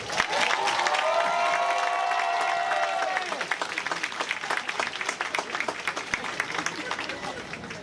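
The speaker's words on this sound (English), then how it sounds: "Please, at this time, applaud the senior class of" Audience applause for the graduating senior class of 2023 at a high school graduation ceremony; a large crowd claps and cheers in a reverberant space, with a brief tonal sound early on and babble mixed into the sustained clapping.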